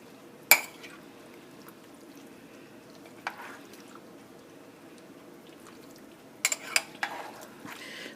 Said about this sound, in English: I'm going to give it a little stir